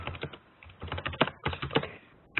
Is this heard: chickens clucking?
no